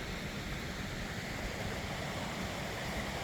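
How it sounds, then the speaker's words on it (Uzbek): Water pours down a waterfall in the Gulkam gorge in Uzbekistan, a steady, dense, broadband rush that stays constant throughout, with no voices. "Sharsaralardan tushayotgan suvlar."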